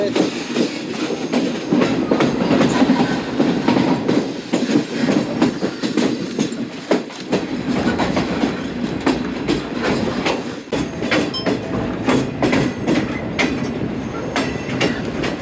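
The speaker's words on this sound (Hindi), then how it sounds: "वो गुजर गई है, मालगाड़ी है" A long freight train rumbles past close by, with continuous heavy rolling noise and rhythmic clattering of wheels over the rails.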